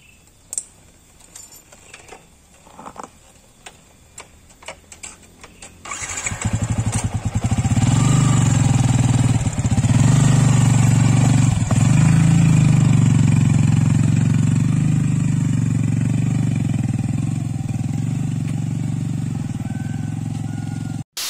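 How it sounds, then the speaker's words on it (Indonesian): A motorcycle on a rough, unpaved rural road starts up after a few faint clicks and jangles, then rides steadily with a loud, close, continuous engine drone. "Ini saya sama Indra satu motor, jadi terpaksa satu orang harus turun ya teman-teman"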